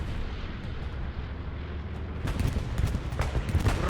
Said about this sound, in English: Greyhound bombing run making its way.